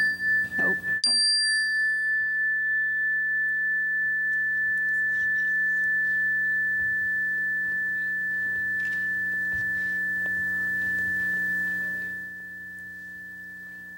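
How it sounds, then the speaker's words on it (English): A meditation chime is struck once, leaving a bright ringing tone that hangs steadily for about ten seconds and then fades away, with no talking over it. "When you hear the chime, listen to the sound as long as you can."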